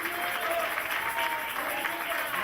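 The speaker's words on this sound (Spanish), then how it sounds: "Vamos a recibir la palabra con un fuerte aplauso" Congregation applause in a Spanish-language church service, a continuous moderate clatter of many hands under a faint steady hum, with some voices mixed in.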